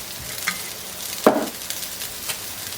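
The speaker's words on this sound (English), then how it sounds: "the chopped up noodles, and you just want to give them a quick fry" Chopped noodles hit a pan of hot oil and are stirred in a quick fry, giving a faint sizzle with soft scraping stirs and one brief louder clatter midway.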